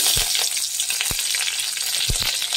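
Curry leaves hit hot oil with crackling mustard seeds for tomato rasam, giving a loud dense sizzle with a few sharp pops and spatter bursts close by.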